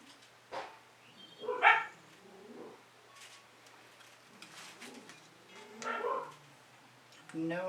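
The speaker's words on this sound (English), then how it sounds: "No idea what my dogs are barking at" Pet dogs barking at home, several sharp barks at a moderate distance scattered among quiet stretches, with faint voice-like sounds in between.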